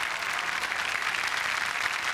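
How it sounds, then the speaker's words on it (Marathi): Studio audience applause on a Marathi TV comedy show, a dense, steady wash of clapping that holds at an even, fairly loud level throughout with no voices on top. "जोरदार टाळ्या"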